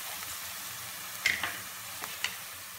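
Green chili, ginger and garlic frying with golden-browned onions in a pan for palak paneer, giving a steady soft sizzle with a few sharp clicks of stirring near the middle and end, no voices.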